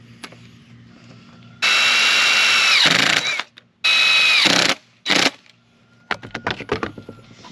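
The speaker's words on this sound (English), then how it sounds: "I just drill into one side." A power drill drives into a bamboo post of an outdoor rain shower in three loud whining bursts, the first longest, followed by rattling clinks of small parts being handled.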